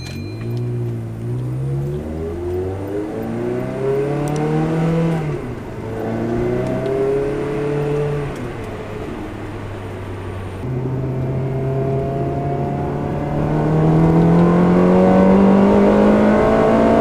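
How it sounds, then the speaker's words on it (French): A V8 car engine with a Stage 2 exhaust, heard with the hood slightly open, revs up and down repeatedly in rising and falling sweeps, loud and close, with no voices. "Un petit peu la fenêtre pour écouter un peu mieux le son du V8"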